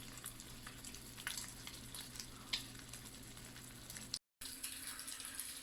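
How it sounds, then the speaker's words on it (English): Spam sears in a pan with vegetable oil, giving a low steady sizzle with faint crackles and pops close by, broken once by a short gap. "sear your meat in a pan with some vegetable oil"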